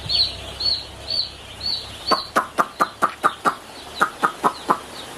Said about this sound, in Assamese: এতিয়া দাদাই এই মুৰ্গীকেইটাক মাতিব চব আহি যাব